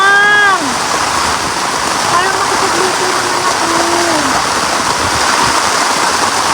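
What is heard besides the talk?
heavy typhoon rain at a campsite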